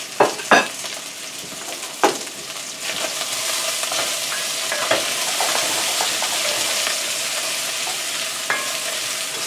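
Sliced mushrooms sautéing in a pan give off a steady loud sizzle, broken near the start by a few knocks of a utensil stirring against the pan.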